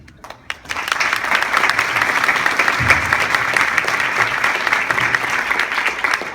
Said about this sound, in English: Can we just give one big round of applause?